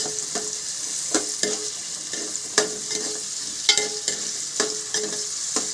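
A spoon scrapes and stirs chopped garlic and tomato in a hot pan over high flame for a Kerala choora fish curry, repeated sharp clinks over a steady sizzle, close and with no talking.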